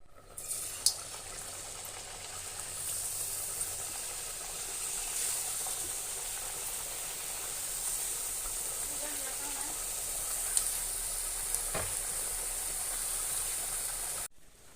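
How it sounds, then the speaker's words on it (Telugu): Rice flour chekkalu snacks deep frying in hot oil, a steady close sizzle and hiss running throughout with a few faint clinks, while someone talks over it. "డీప్ ఫ్రై చేసుకోవాలి."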